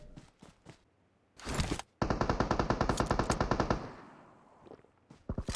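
Automatic gunfire between teams in PUBG Mobile on the Sanhok map, a few isolated shots followed by a long rapid machine-gun burst of even, sharp reports, then scattered further shots, fairly close and loud.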